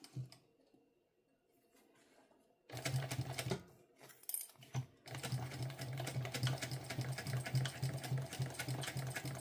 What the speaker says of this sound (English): we're going to just kind of baste this on a little bit bigger than a basting stitch